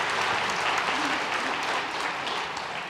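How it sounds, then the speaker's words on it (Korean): Church congregation applauding during Sunday worship announcements, a steady, dense wash of clapping that holds at an even level throughout. "우리 박수하도록 하겠습니다."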